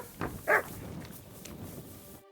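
A dog in Kingdom Come Deliverance 2 gives a single short, close bark followed by a soft whimpering yip, then quiet game ambience.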